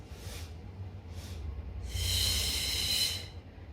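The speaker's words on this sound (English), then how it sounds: "You can follow my breath." Deep breaths during a stretch flow for runners: two short exhales, then a longer, louder breath, each a close, airy rush with no speech.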